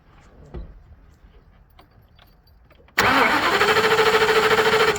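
After faint key jingling, the engine of a Ford E350 van, fitted with a fuel cut-off, cranks loudly with a rapid, steady pulsing for about two seconds but does not catch.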